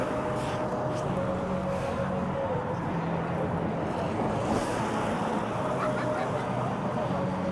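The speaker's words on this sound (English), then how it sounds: "Wind's too high." Strong, gusty wind buffets outdoors at a street protest, a constant roar across the microphone, with faint voices beneath.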